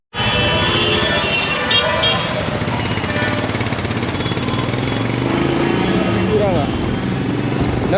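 Busy road traffic on a trip through Karnataka in India forms a dense, loud engine rumble, with car horns tooting now and then. Voices talk over the noise.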